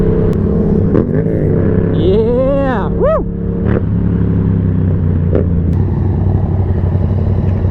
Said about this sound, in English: Oh, it looks like we got a motorcycle behind us.